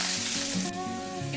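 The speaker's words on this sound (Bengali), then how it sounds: "এবার আমি এটাও হালকা লাল করে ভেজে নেব।" Close up, potatoes dusted with turmeric and a little salt fry in oil in a pan. There is a continuous crackling sizzle with light movement, and no speech over it.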